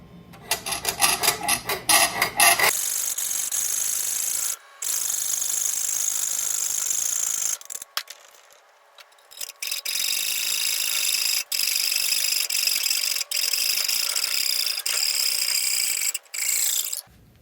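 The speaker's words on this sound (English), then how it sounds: "So I picked up a coping saw from Lowe's, and we're gonna give that a shot. Since this is just aluminum, we'll see how it does." Coping saw cutting through 3/16-inch soft aluminum plate for a Honda CL175 intake plenum, a steady loud rasping saw stroke that runs nearly continuously with a few brief pauses, no talking.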